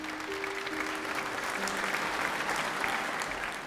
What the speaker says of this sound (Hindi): आए जोरावर खुदा के लिए जोरदार तालियां बजाएं।